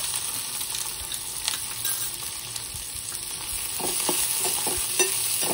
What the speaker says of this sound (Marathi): त्यामध्ये मी हा हाफ टीस्पून जिरं टाकते। त्यानंतर जे आपण बारीक कापलेला कांदा आहे तो सुद्धा त्यामध्ये मी भाजून घेते।